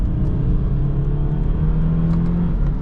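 A 2014 BMW 428i xDrive coupe with an 8-speed automatic in manual mode holds a steady, loud, close engine drone as it revs on a downshift, with a sustained low hum and no talk.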